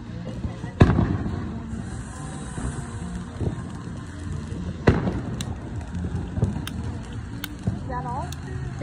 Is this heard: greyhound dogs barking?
no